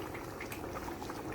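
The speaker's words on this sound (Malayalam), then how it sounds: "മീൻകറി നല്ലപോലെ വെന്ത് വരുന്നുണ്ട്." Kerala-style sheri fish curry simmering in a pot, giving a steady, soft bubbling and gentle popping throughout, close up and fairly quiet, with no voices.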